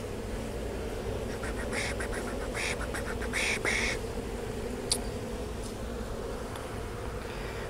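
Honey bees buzzing at an open hive during a frame inspection, a close, steady hum with brief clicks and handling knocks from the frames.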